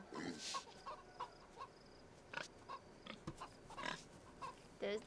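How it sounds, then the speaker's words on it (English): A pig at a zoo grunts in short bursts amid clucking chickens and other farmyard fowl, the calls scattered and moderately close, with faint voices occasionally in the background. "There's the pig."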